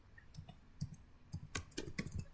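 Quiet computer keyboard typing of a command into a MikroTik router terminal: a short run of a dozen or so crisp key clicks in uneven rhythm, close and faint, with no talking.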